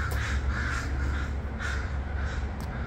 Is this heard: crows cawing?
yes